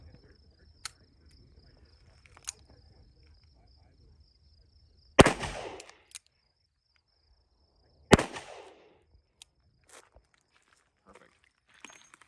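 Two loud, sharp shots ring out from an S&W 65-5 .357 Magnum revolver at an outdoor range, several seconds apart, each trailing a brief echo, with crickets chirping faintly and a few small clicks between.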